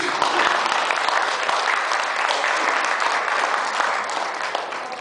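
Wedding guests applaud the newly married couple during the ceremony, a steady, full burst of clapping that stays dense and even for several seconds before easing slightly at the end.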